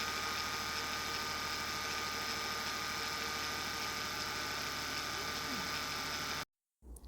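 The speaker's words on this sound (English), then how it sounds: "a chattering noise. It's going to sound like something is broken in the intake manifold." A car engine with a failing intake manifold runner control idles with a steady, continuous chattering hum. It runs evenly and then cuts off abruptly near the end before briefly returning.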